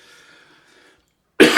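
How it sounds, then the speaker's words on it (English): A single sharp, loud chesty cough bursts out near the end after faint quiet room tone, close to the listener and alone. "Still got this cough."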